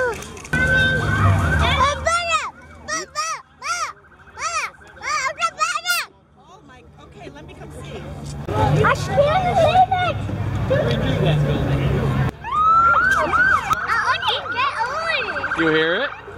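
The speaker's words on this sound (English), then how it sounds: "Fire truck!" A fire truck siren wails in repeated rising and falling sweeps at a St. Patrick's Day parade in Akron, Ohio, loud and close, mixed with crowd chatter and children's voices nearby.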